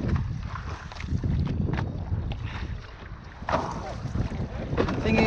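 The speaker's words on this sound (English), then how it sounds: "it is quite windy" Gusty wind buffets the microphone while wing foiling on the water on a Gong Zuma 7'3" foil board, a steady, loud rushing roar with rising gusts throughout and no talking.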